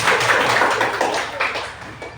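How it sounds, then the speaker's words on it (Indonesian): Children clap their hands together in a classroom, a dense, slightly uneven patter of many small claps lasting about two seconds and fading toward the end. "Oke, tepuk tangan nak."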